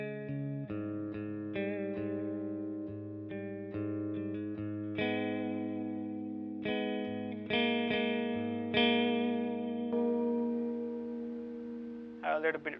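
An electric guitar plays through a Laney LV300 Twin amp with the reverb turned fully up, sounding sustained, ringing chords and single notes with long washy tails, clear and close, with a brief glitch near the end.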